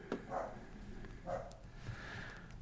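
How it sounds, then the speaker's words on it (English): A dog barks a few times in the background, faint and distant over a steady low hum. "I'm sorry if you can hear my dog barking in the background."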